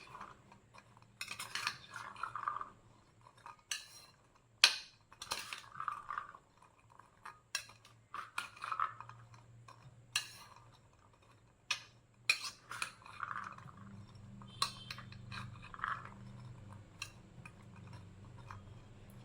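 A spoon stirs chana masala chaat in a bowl, making irregular metallic clinks and scrapes against the dish. The sounds are fairly quiet, with short pauses between bursts of stirring.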